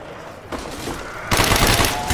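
Zombies-mode gunfire in Black Ops Kino Der Toten, starting as a softer spray and then jumping into a loud, dense burst of rapid automatic shots up close.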